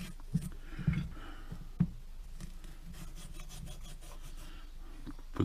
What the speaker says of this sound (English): a little bit of Scotch-Brite. Got an aluminium just to get the little bits of corrosion off to make sure you've got a nice flat